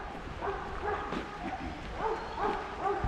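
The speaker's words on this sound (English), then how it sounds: "You'll probably hear the barking in the background." Dogs bark and yip in short bursts at a moderate distance, several yelps scattered over a few seconds amid background noise.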